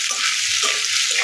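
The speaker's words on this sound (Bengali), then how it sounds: "পেঁয়াজটা বাড়িয়ে দিতে জন্য পেঁয়াজটা ভালোভাবে ভেজে নিয়েছি।" Onion frying in a pan for rohu fish curry makes a steady, close hissing sizzle throughout the brief moment.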